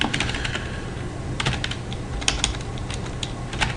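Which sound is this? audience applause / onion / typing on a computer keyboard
typing on a computer keyboard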